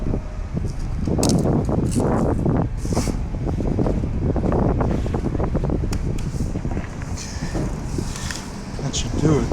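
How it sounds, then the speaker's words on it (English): Strong wind roars steadily through a snowstorm at a truck stop campsite, buffeting the microphone in continuous gusts; speech is mixed in beneath the rushing noise. "Wow, that wind."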